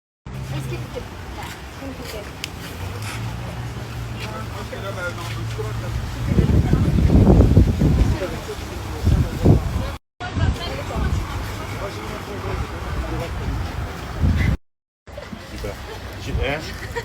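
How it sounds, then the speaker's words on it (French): Strong wind roars across the microphone with heavy low buffeting, surging loudest midway, while people talk and traffic hums in the background. "il y a un vent à décorner un cocu"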